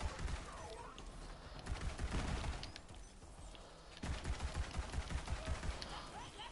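Rapid gunfire from the Maggie pistol in the shooter Borderlands 3, a steady rattle of close shots against enemies running through most of the stretch, with a brief lull in the middle and no speech.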